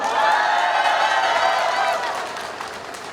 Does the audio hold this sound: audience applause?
yes